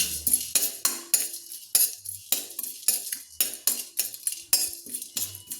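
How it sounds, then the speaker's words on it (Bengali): Whole spices lightly dry-roasted in a pan for chicken darbari, stirred with a spoon that clinks and scrapes against the metal in a steady, repeated rhythm, close up with no talking. "একটু হালকা করে আমি ভেজে নিচ্ছি"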